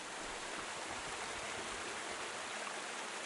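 A flowing stream in the Kingdom Come: Deliverance II game gives a steady, soft rush of running water, unbroken and even throughout with no voices over it.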